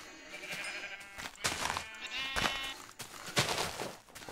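Several sheep bleats from the Minecraft video game come in quick succession as the animal is struck, moderately loud and close, with a few thumping hit sounds between them.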